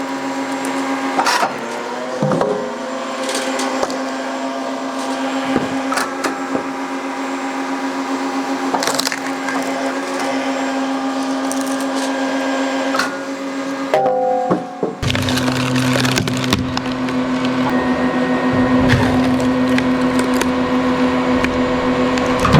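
An American CLS hydraulic log splitter, run alongside a Solis SV24 electric tractor, forces its way through a knotted log: a steady, droning pump hum with strained tonal harmonics, broken by sharp creaks and cracks of splitting wood that shift midway.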